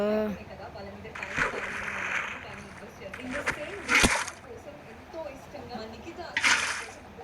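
Water flows and splashes in a mining video game, with intermittent rushing and splashing bursts under a player's excited talk.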